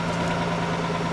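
A Nissan Skyline R32 engine idles close by after sitting all winter, a continuous low hum with a constant tone and no talking over it.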